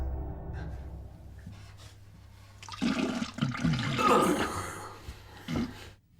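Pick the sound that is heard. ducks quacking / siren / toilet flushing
toilet flushing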